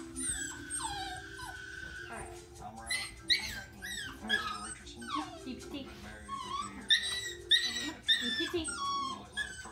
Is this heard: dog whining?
yes